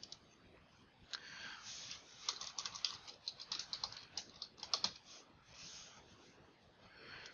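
Typing on a computer keyboard, a fast uneven run of light clicking keystrokes in bursts, close and fairly quiet, with brief pauses between flurries.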